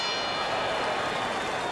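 A boxing round bell in the video game Fight Night Champion rings out with a sustained metallic clang, loud and steady, filling the short moment alone.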